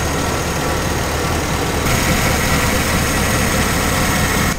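A converted bus's engine running with its cooling fan spinning inside the shroud, a loud, steady, dense drone with no change in pitch, close to the microphone.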